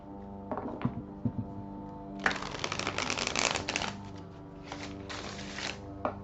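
Tarot cards are shuffled close by in a few bursts of riffling and flicking, with a longer rapid run in the middle and short pauses between the bursts.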